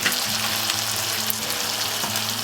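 Beef sizzling loudly in a hot pan before tomatoes go in, a dense, continuous close frying hiss with a steady low hum beneath and no talk.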